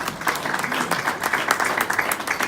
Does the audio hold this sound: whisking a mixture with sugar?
no